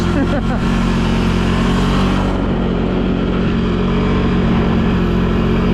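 Can-Am Outlander 1000 XMR ATV engine revs loudly and steadily up close on a mid-to-late January trail ride, a dense continuous roar without letup.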